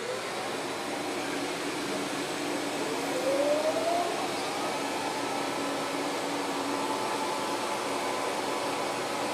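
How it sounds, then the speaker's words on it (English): A vacuum attached to a WerkMaster Boss 110V 1.5HP floor machine runs with a steady broadband whoosh and hum during concrete floor burnishing, continuous and fairly constant with one brief rising whine. "Oh, I guess I could turn the vacuum on."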